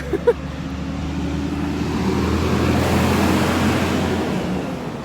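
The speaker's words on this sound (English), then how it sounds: "there's a big truck coming by" A large truck rumbles past, its low roar swelling to a peak midway and then fading slightly, steady and fairly loud with no talking.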